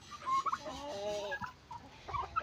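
Chickens cluck and squawk in a close, busy flurry, with several birds calling over one another in short bursts.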